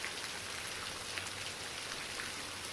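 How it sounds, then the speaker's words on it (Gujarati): Steady rain falls outdoors, making a constant, dense hiss speckled with the patter of individual drops, unbroken for the whole stretch with no voices. "તમે જોઈ શકો છો કેવો વરસાદ આવે છે."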